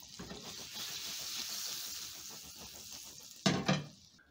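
Butter sizzling in cooking oil in a pan after shallow-frying plantains, a steady frying hiss with small crackles throughout, rising to two louder sputtering bursts near the end.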